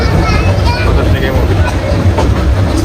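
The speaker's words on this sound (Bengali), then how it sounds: "আমরা এই মুহূর্তে আছি ট্রেনে" Inside a moving passenger train in Bangladesh, bound for Cox's Bazar, a loud, constant low rumble and rattle of the carriage fills the space throughout.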